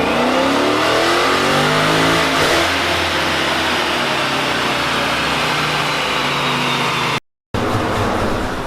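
A Procharger-boosted C10 truck engine roaring on a dyno, very loud and close with a rising, sweeping pitch before holding at high revs, then cutting off abruptly.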